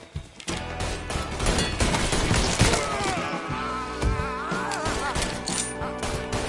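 Gunfire erupts in the Mafia 3 video game, a dense, loud burst of shots and cracking impacts running continuously over a busy game soundtrack, with brief shouted voices mixed in.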